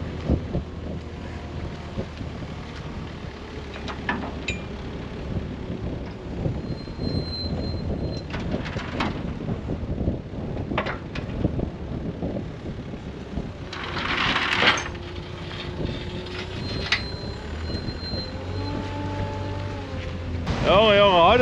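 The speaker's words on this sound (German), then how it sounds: "ich hoffe mal, ihr könnt mich überhaupt verstehen mit dem Wind" Strong storm wind buffets the microphone outdoors in gusty, rumbling bursts while someone talks over it during work fitting an axle on a John Deere Lanz potato harvester.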